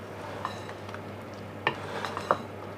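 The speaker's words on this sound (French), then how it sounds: "On mélange." A utensil stirs strawberry rhubarb clafoutis batter in a bowl, with soft continuous mixing and a few sharp clinks against the dish, close and alone.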